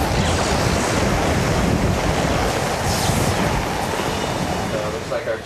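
Hurricane Andrew's winds roaring outside a house in Florida, a dense continuous roar with gusty hiss, loud and unbroken throughout.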